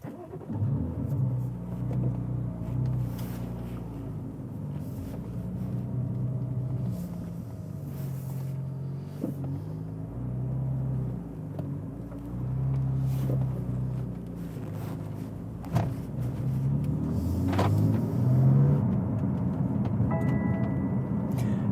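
A car rolls along on a cloudy, cold Sunday morning, its engine humming steadily from inside the cabin with gear-change dips and light wind noise, and no one speaking.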